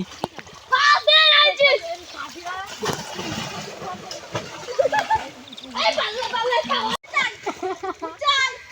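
Children ducking and splashing in a village pond, with repeated watery splashes and sloshing under loud excited kids' voices and shouting throughout.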